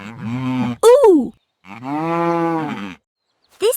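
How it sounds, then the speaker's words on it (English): A cow moos twice, loud and close, each long low call bending in pitch, separated by a short pause, with a brief higher sound between them. "This is a cow."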